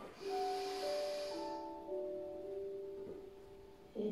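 Someone draws in a breath during a Pilates exercise: a soft, airy inhalation near the start, over steady background music with no talking.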